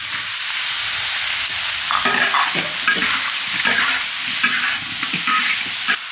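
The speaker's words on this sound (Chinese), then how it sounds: "下面要葱、姜、蒜、八角、花椒、香叶倒进去" Scallion, ginger, garlic, star anise, Sichuan peppercorns and bay leaves hit hot oil in a wok, a loud continuous sizzle close up, with bursts of crackle and scraping as they are stirred.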